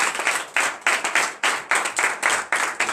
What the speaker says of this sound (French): Et donner de vive acclamation.